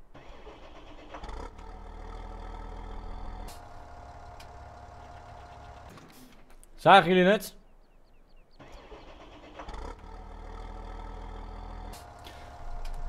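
New Holland T7 tractor in Farming Simulator 17 cranks and fires, a short loud start burst that drops into a quiet mechanical hum, with someone speaking Dutch and a rhythmic engine loop around it.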